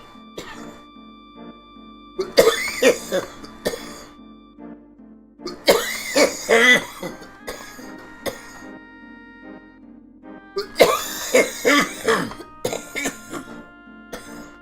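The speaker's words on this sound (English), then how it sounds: "a little delayed on that cough" Several bursts of coughing and throat clearing come in three clusters, near and fairly loud, with quiet gaps and a low steady hum between them; no speech.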